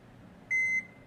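A kitchen timer is set and gives one clear electronic beep of about a third of a second over quiet room noise during a home cooking session.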